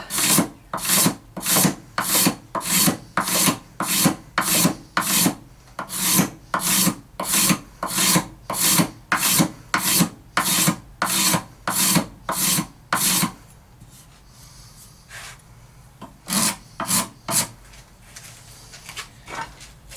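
Card scraper drawn repeatedly across a wooden guitar headstock, a fast, even run of close raspy strokes that stops partway, followed by a few scattered scrapes.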